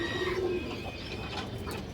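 Close, low cooing from a lively pigeon with red eyes and a stubby boot beak, one drawn-out warble at the start followed by softer murmuring, no voices over it.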